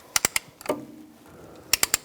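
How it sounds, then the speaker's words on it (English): A tool compresses the pistons of a front brake caliper on a 2005-2010 Chrysler 300. Sharp ratcheting clicks come in two quick bursts of three, with soft mechanical shuffling between them, close and fairly quiet. "we're going to compress these pistons down together all the way until they don't"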